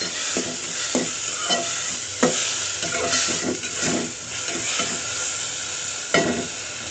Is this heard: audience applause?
no